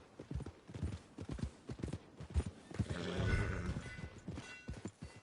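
Horse in the Red Dead Redemption 2 game near stables, hooves clip-clopping steadily and a whinny rising midway, with faint voices mixed under the hoofbeats.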